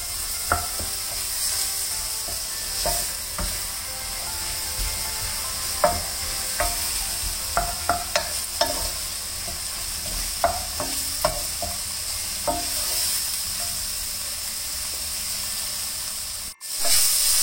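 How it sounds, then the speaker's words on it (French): Mushrooms sautéing in a pan for a stuffed turkey dish, a steady sizzle and hiss with a utensil tapping and scraping the pan now and then, close up, ending with a brief clatter. "Et je fais revenir mes champignons"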